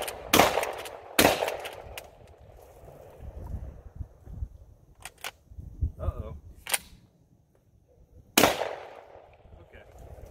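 A Rock Island Armory VRPA40 12 gauge semi-auto shotgun with a drum magazine fires buckshot outdoors, several loud, sharp blasts spaced irregularly apart, with fainter clatter and rustling between shots.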